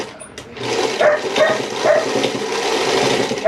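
A couple of pet dogs bark indoors in a few sharp, separate yaps spread over a few seconds, somewhat distant, with a faint hum of a sewing machine nearby.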